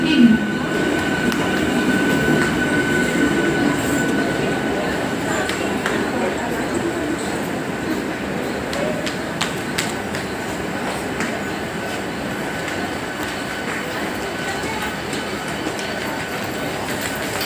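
A Mumbai fast local train runs from Dadar toward Byculla, a loud steady rumble of wheels and carriages with rattling clicks and occasional metallic squeals, close and continuous throughout.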